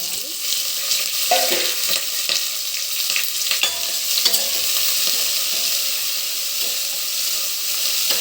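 Onions frying with spices in oil inside a cooker, for chicken pulao: a steady, dense sizzle with scattered stirring scrapes and small crackles, close and fairly loud throughout.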